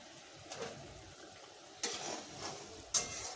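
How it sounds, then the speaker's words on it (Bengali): Fish pieces are dropped into boiling curry in a pan, giving three separate splashy sizzling bursts over a quiet low bubbling background, with no talk. "মাছটা দিয়ে দিচ্ছি, ফুটে গেছে।"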